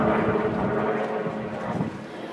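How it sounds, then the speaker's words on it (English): A broad, rumbling engine drone of a helicopter passes overhead in Hawaii, loud and steady with a slight fade toward the end. "Another helicopter."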